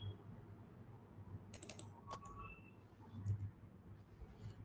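Someone types on a computer keyboard while editing a file in the vi editor: a few faint, scattered key taps and clicks over a low hum, with a short bright click in the middle.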